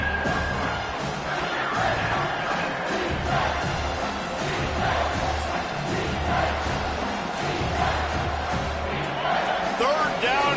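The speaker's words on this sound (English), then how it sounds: "this crowd will blow out a vocal cord to help this defense" A Florida stadium crowd in a college football video game roars steadily at a loud, dense level, with rising swells of cheering and shouts under commentator speech.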